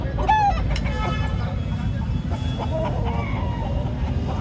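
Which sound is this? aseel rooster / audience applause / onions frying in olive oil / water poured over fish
aseel rooster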